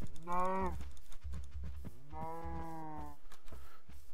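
A cow in the Minecraft video game moos twice, a short call and then a longer one, over soft repeated thumping game sounds.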